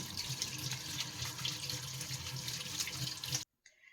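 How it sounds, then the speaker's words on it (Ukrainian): Mushrooms (slippery jacks) rinsed under a running kitchen tap, steady close rush of water splashing into a sink, cut off abruptly near the end. "І ретельно-ретельно промиваю під проточною знову водою"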